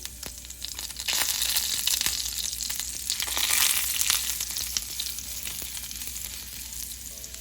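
Cumin seeds and a chopped inch of ginger frying in hot oil for a bamboo shoot pickle: a steady, close, crackling sizzle that swells briefly midway, with light stirring scrapes and no voices.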